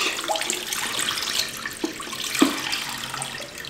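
A film developing tank is emptied of water mixed with white vinegar, giving a steady close gush of pouring liquid with a few gurgling splashes as it drains into a sink.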